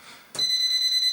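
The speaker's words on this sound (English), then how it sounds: "So that noise is showing that the pencil tester is working" Pencil voltage tester emitting a steady, high electronic beep that starts abruptly and holds continuously, close and loud.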